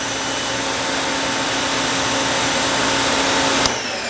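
Electric pressure washer spraying through a 3.5 orifice nozzle at about 1200 PSI, a loud steady hiss with a constant motor whine, cutting off sharply near the end.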